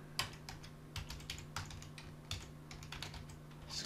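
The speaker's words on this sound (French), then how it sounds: "je retourne dans le terminal et ici je vais taper npm install" Quick bursts of keystrokes on a computer keyboard typing a terminal command, with irregular clicks and a few louder key hits. The sound is close but quiet over a faint steady hum.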